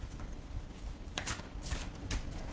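A deck of cards is shuffled, giving soft riffling bursts and several crisp snapping flicks over a quiet, steady background, close and moderately faint, with no talk during it.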